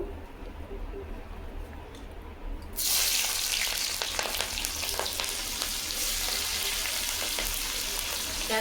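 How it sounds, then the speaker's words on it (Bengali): Quiet kitchen background, then onions hit hot oil with a sudden loud sizzle that keeps hissing and crackling steadily. "ভাজা তেলে পেঁয়াজ দিয়ে দেবো"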